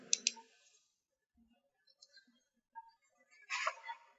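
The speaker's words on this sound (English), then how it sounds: "Then right click." A computer mouse gives sharp right-click taps, a quick double click at the start followed by a few faint scattered ticks and a louder burst of clicking near the end, all close up with no talking.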